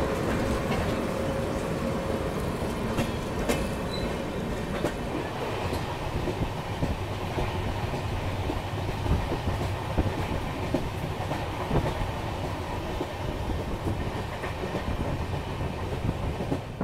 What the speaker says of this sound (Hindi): और दूसरी तरफ रणथंबोर एक्सप्रेस भी आके खड़ी हो चुकी है।